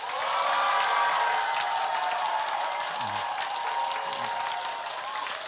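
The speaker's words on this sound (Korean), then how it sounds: "우리 예수님이 부활하신 사실에 기쁜 만큼 한번 박수 함성해 볼까요" Congregation applauding and cheering during an Easter Sunday church service, a loud, continuous wash of clapping with voiced shouts and whoops blended in, sustained evenly before easing slightly toward the end.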